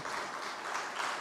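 A church congregation claps hands together in praise, a faint, steady patter of many hands heard from a distance with no voices over it.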